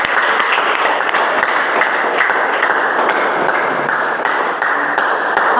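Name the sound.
classroom applause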